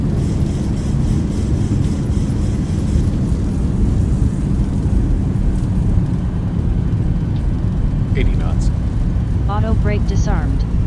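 Thrust reversers on a Boeing 737-800 (ZIBO mod) in a flight simulator game roar loudly and steadily throughout, with brief chirpy tonal sounds near the end.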